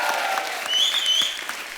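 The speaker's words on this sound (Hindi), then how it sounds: "आप सब एक बार आलिया के लिए जोरदार तालियां" A studio audience on a Hindi TV talk show claps loudly and continuously, a thick wash of applause with a few louder individual claps standing out and faint whistles above.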